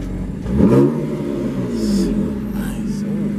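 A car engine, a 2020 Chevy Camaro ZL1 or 2018 Dodge Charger SRT 392, revs up briefly and then idles with a steady rumble, heard nearby, with voices mixed in.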